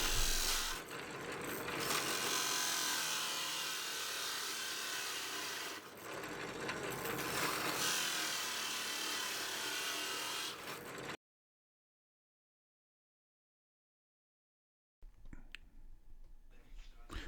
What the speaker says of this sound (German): Die Tür bohrt ihr jetzt an der Markierung mit einem passenden Forstnerbohrer.